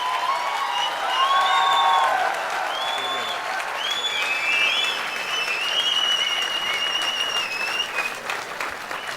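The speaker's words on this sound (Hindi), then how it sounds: "एक बार जरा जोरदार तालियों की गड़गड़ाहट करिए" An audience at a poetry gathering breaks into loud, sustained applause, a dense roar of clapping that holds strongly throughout with no break.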